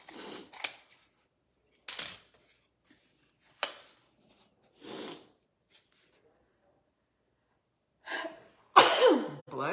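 Several sharp sneezes burst out at intervals from a nearby person during a 3D corner chair picture kit craft session, with quiet gaps between and a louder cluster near the end.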